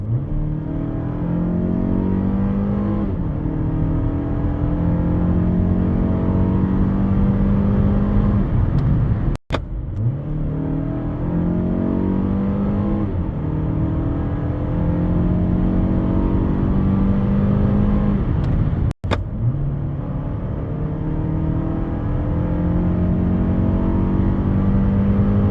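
Mazda CX-5 SKYACTIV-G 2.5 petrol engine with a six-speed automatic accelerating, its steady engine hum rising in pitch repeatedly with two brief sharp clicks between pulls, heard from inside the cabin with no talk.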